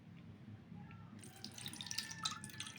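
Water from a cup poured into an aluminium plate, entering at about one second as a bright splashing, trickling stream that runs steadily to the end, fairly close and alone.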